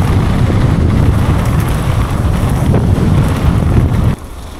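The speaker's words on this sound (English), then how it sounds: "It is windy." Strong wind buffets the microphone in steady, loud rumbling gusts on a wet mountain bike trail at a bike park, cutting off abruptly near the end.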